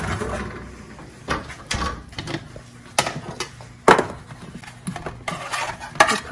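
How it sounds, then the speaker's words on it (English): Sweet potato pieces being turned over in a pan, with scattered clinks and scrapes of a utensil against the cookware and soft knocks at irregular intervals, close and fairly quiet. "I'm going to take the sweet potatoes and we're going to turn them over."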